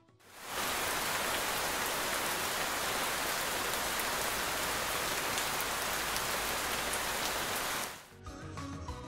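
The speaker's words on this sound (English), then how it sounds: "It's rain. Well done." Steady rain pours down on a surface as a loud, even hiss with dense patter, starting abruptly and cutting off near the end.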